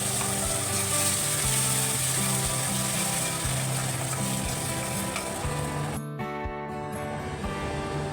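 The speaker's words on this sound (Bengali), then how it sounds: "ফোড়নটা একটু এলেই দিয়ে দেবো মিক্সারে বেটে রাখা পেস্ট" A ginger, garlic, tomato and onion paste sizzles loudly and steadily in hot tempering oil for a monsoon khichdi, with a continuous close frying hiss and a brief dip near the end.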